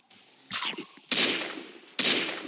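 Video game gunfire from a distance arrives as two sharp, dense bursts of rapid shots, each decaying quickly, after a quieter stretch of soft rustling.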